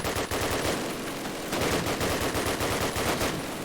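Rapid automatic gunfire fills a first-person shooter match, dense bursts of close shots running almost without a break from start to end.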